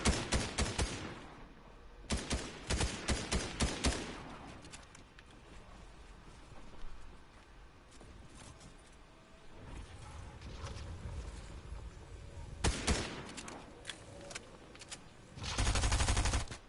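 Bursts of rapid automatic gunfire in a video game shootout, loud clustered volleys at the start, again around the middle and near the end, separated by quieter stretches of ambient game noise.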